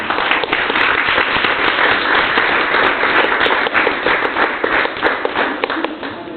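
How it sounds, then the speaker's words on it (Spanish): Applause and clapping from an audience at a tribute event honouring a feminist lawyer, a dense, steady wash of many hands close by, sustained throughout with no voices. "Fuerte aplauso para Silvina Bergina"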